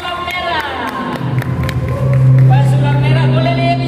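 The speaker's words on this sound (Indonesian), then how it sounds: "ini boleh tepuk tangan dulu buat Pesulap Merah" An audience at a comedy roast claps and cheers for Pesulap Merah, a steady crowd roar with scattered claps under music and a speaking voice.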